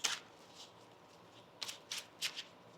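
Tarot cards shuffled in quick bursts, a crisp riffle at the start and then three short ruffling passes close together near the end, quiet between.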